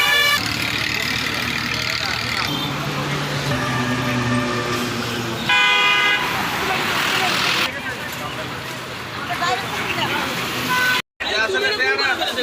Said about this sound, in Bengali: এটা ঢাকা টু কুমিল্লার হাই রাস্তা বা ঢাকা চট্টগ্রাম হাই রাস্তা